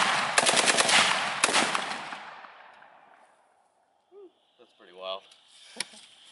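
A first-time shooter fires an AK-50 V3 machine gun outdoors, giving a loud close burst of rapid shots that rings out and decays, followed by a single later shot and brief voices.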